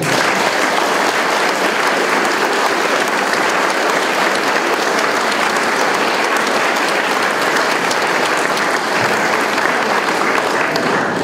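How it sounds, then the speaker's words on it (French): An audience at a ceremony honouring a returning champion at a vehicle mechanics training centre applauds loudly and continuously, a dense wash of clapping that holds steady throughout. "on va terminer l'événement de cette façon-là, avec une belle main d'applaudissements encore envers notre Jack."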